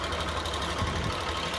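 A Hero XPulse motorcycle, muddy and in poor condition after a year of standing unused, idles with a steady, even drone that fills the short stretch close by and carries no speech.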